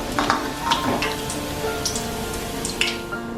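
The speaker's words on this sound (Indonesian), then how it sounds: "kita goreng sampai warnanya kuning keemasan sampai matang" Tempeh-filled combro fritters sizzle in hot oil with a dense, steady crackle and scattered sharp pops, close and continuous with no talking.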